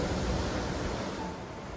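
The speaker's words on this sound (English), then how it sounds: "the waves are a bit louder on this side than they are on the other side of the complex" Ocean surf at a beach resort in Samana, a steady broad rushing wash of waves heard from nearby, gently fading, with no voices.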